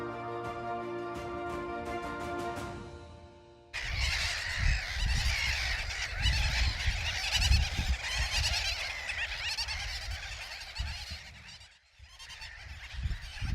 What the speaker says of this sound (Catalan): ara hi ha colònies de becs d'alena, gavines i xatracs.